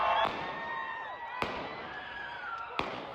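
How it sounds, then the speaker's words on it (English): Gunfire breaking out during a street demonstration in Salt Lake City, Utah: three sharp, fairly distant cracks spaced over a few seconds, with faint crowd sound in between. "Gunfire breaking out during a demonstration in Salt Lake City, Utah."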